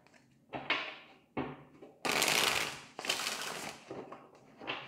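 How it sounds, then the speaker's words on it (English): Tarot cards shuffled by hand in a quiet room, giving soft riffling and rustling bursts that swell and fade several times, close and fairly quiet with no voices. "Let's get one shuffle."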